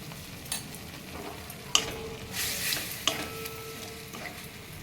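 Pointed gourd with ginger and green chilli paste fries in a pan, a faint, steady sizzle broken by a few sharp stirring scrapes and a brief louder hiss.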